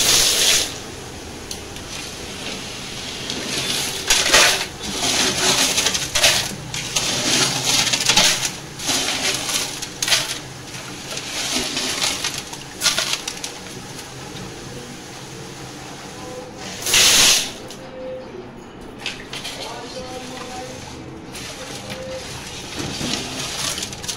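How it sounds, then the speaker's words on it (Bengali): Aquarium stones lifted out of the tank and handled, with repeated close rattling, clacking and crunching bursts of gravel and pebbles, interspersed with brief quieter pauses and some water movement. "এই পাথরগুলো আমি বের করে নিচ্ছি।"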